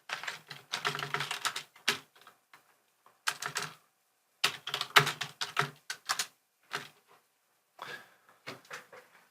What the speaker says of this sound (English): So I'm typing on the internet.